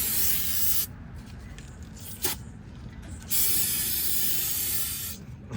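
Aerosol brake cleaner sprayed onto the brakes of a 2015 BMW 328i to clear leftover grease, heard as a loud, close hiss in two long bursts with a short mechanical click between them.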